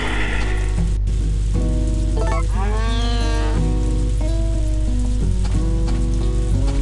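A cow moos in the Harvest Moon farm simulator game, a drawn-out bovine call sounding over steady, looping game music with no talk.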